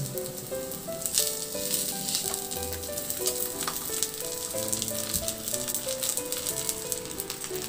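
Tofu (tokwa) fries in a pan of oil with a steady, dense sizzle and crackle that runs unbroken from start to end, with faint melodic tones underneath.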